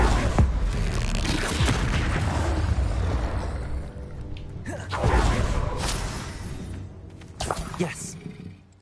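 Confringo spell explosions in the video game Hogwarts Legacy: loud booming blasts with roaring bursts and whooshes, several hits in succession, mixed with game effects.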